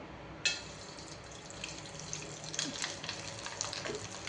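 Dried sabudana and potato chakli dropped into hot oil, bubbling and frying with a steady broadband hiss that starts abruptly and carries on with small crackling bursts, no talk.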